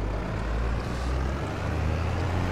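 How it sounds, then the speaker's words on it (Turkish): A steady, loud tractor engine from Farming Simulator 22, droning evenly with a heavy low rumble and no breaks or speech. "Bu motor sesi mi çıktı?"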